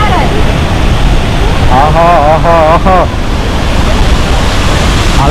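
Arvalem waterfall pours in heavy monsoon rain with a loud, continuous roar of water and rain, while a voice exclaims over it briefly.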